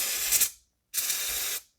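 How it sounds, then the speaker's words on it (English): Two bursts of aerosol brake cleaner sprayed during intake actuator solenoid and filter work on a 2005 Toyota Corolla 1.8, each a loud close hiss of about half a second, separated by a brief pause. "So spray some brake cleaner."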